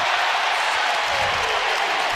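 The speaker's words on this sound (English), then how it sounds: "here comes the crowd at Hilton Coliseum" Roaring crowd at Hilton Coliseum during an Iowa versus Iowa State men's college basketball game, a dense, steady wall of cheering noise filling the arena without a break.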